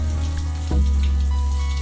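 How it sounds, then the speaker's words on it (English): Tap water runs steadily into a sink during surgical handwashing, a loud, close, continuous splash with a low hum underneath and a slight shift in tone partway through. "Use a disposable nail pick to clean under your fingernails under running water"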